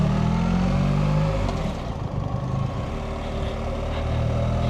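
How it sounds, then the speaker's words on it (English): A BMW R1300 GSA motorcycle with its stock OEM exhaust fires up and idles on a quiet roadside pull-off in Wales, a steady close low engine rumble with a slight dip and recovery before settling. "Let's turn on the engine and ruin it all."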